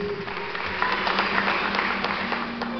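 Audience at the 40th MPB music festival in Ilha Solteira applauding steadily, a dense patter of clapping from a crowd heard through a thin, band-limited recording.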